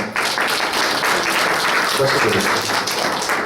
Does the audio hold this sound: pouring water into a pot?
no